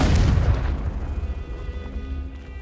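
A Confringo fire spell detonates in Hogwarts Legacy with a loud, close booming explosion that bursts at once and then rumbles and fades over a couple of seconds.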